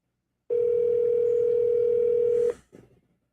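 A telephone rings out on a call, a single long steady tone of about two seconds, followed by a brief faint murmur.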